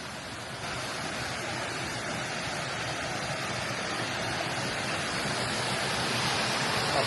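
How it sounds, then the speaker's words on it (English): A waterfall beside rice fields in Ubud, Bali, heard as a steady, dense rush of water that grows slightly louder over several seconds, with no clear voices. "It sounds like we're near a waterfall."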